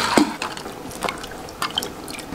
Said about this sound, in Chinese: 加入清水